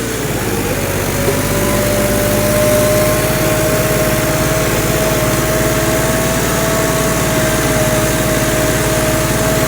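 Working a rotavator in a field readied for sugarcane, a tractor engine holds a loud, close, unbroken drone at a steady pitch throughout.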